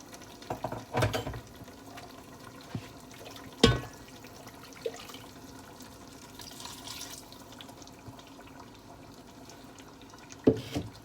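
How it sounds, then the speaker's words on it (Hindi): Water poured into a pan of chicken korma mixture on the stove, with a few brief splashing pours and light dripping over a low steady kitchen background. "इसी हालत में मैं इसमें थोड़ा सा पानी शामिल करके जो बकिया हमारा मिक्सचर है वो भी शामिल कर लूँगा"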